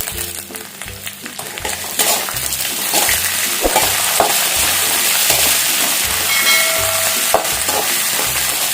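Curry leaves sizzle and spit in hot oil for beetroot chutney, a steady loud frying hiss with repeated low stirring scrapes throughout.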